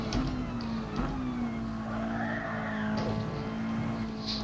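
Race car braking hard and skidding in a racing video game, a Mazda touring car at Circuit de la Sarthe, with a steady engine drone and tire scrub throughout, loud and close.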